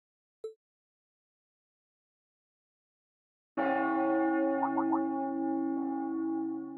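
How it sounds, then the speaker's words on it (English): The Heimdall Cathedral bell in the video game Trails of Cold Steel begins with a single faint chime. After a pause, a loud, sustained, ringing peal follows with a long resonant decay and a few brief overtone flutters. "That must be Heimdall Cathedral's bell."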